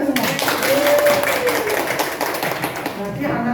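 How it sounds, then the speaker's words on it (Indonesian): Students in a junior high school classroom clapping together, a brief burst of dense hand claps mixed with chatter and voices. "Tepuk tangan buat kita semua."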